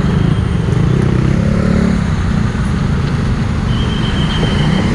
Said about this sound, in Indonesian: Bis Prima Jasa melintasi rel.